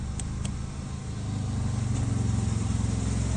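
A 2001 Chevy Prizm with a Toyota 1.8 1ZZFE engine and 191,000 miles idles under the open hood, a close, steady, even rumble that stays loud throughout.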